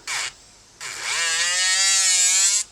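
A 35,000 RPM electric nail file drill fitted with a sanding band whirs close by in two bursts, a short buzz, then a steadier high whine as it spins up, with no talking.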